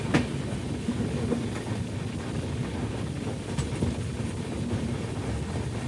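Kerala Sampark Kranti Express running on the rails between Vadakkanchery and Shoranur, heard from aboard as a constant rolling rumble with faint wheel clicks and wind noise.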